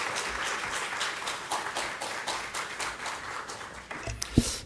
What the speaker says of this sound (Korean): 나오실 때 우리 박수로 환영하도록 하겠습니다.